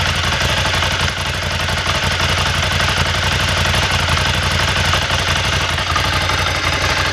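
An air-cooled Ducati V-twin motorcycle with standard exhausts runs at a steady idle, a loud, close, rough throb with mechanical clatter.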